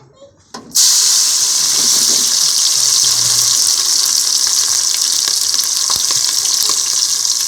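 Spices hit hot ghee for a tadka, erupting in a loud, sudden sizzle after a quiet moment and continuing as a steady, intense crackling hiss close by.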